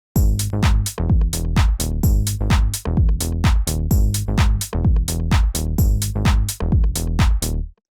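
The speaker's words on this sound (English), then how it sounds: "So this is the Plucky Bass sound." A plucky house bass synth patch built in Serum plays a bouncy repeating pattern of short, punchy notes with quick decays, loud and dry with no voices.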